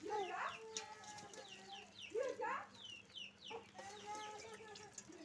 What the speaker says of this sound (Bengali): মুরগিগুলো জ্বালাতন করতেছে